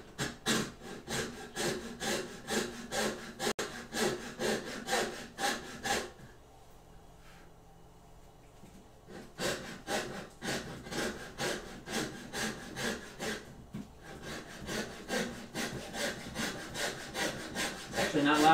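Hand saw cutting through a keycap mold, a steady back-and-forth rasp of repeated strokes, close and fairly quiet, with a short pause midway before the rhythmic sawing resumes.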